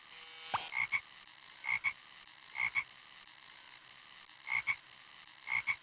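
A frog in the video game Discworld Noir croaks in short paired bursts, five or six times at a steady interval, fairly clear against a quiet background.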